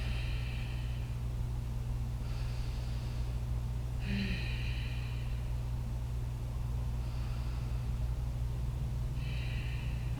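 Slow, deep breaths during a seated stretching exercise, each long airy inhale or exhale rising and fading about every two to three seconds, moderately close over a steady low hum.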